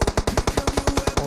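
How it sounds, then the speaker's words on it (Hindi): Rapid automatic M4 rifle fire in a video game, a steady burst of about a dozen evenly spaced loud shots with no talking. "जैसे ही बग्गी से उतरते हैं तभी एक फायर आता है M4 का"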